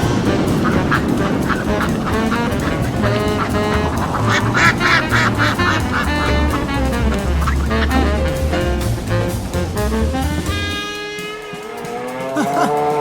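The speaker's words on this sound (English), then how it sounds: "Ducks?" Ducks quack near the end, their calls rising over a loud, dense bed of roaring, churning noise and tonal sounds that fills the whole stretch.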